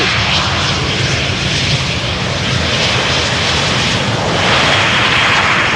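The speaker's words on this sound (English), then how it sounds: "This was EasyJet arriving from Luton." An EasyJet airliner arriving at Amsterdam Schiphol Airport produces a loud, continuous engine roar. It stays broad and steady throughout and swells slightly toward the end as the jet passes, with no voices.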